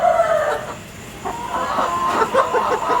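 Backyard chickens cluck and murmur in a steady, busy stream of short calls at close range, with a faint crow-like call among them over a constant outdoor background.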